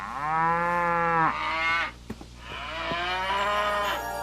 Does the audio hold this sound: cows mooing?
yes